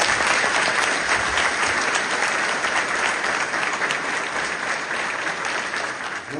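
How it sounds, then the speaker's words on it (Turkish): A crowd at a Turkish CHP party meeting in Kartal applauds council member candidates on stage, a loud, dense wash of clapping that holds steady and fades slightly toward the end. "bir alkış istiyorum"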